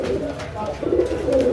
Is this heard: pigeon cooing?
yes